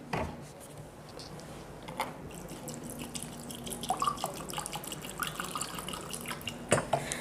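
Kangen water is poured into a cup of green tea during a water demonstration, giving a soft, quiet trickle with scattered drips and small splashes, close by and faint.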